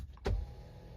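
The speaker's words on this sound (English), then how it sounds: "Passenger wise, it is electronical seat adjustment" Electric passenger seat motor in a Hyundai Staria, a short whirring burst as the seat shifts, close and fairly quiet over low cabin hum.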